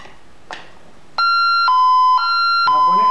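A Honeywell alarm siren set off by a sensor tamper fault: two soft clicks, then a loud, steady electronic tone that alternates between two pitches about every half second.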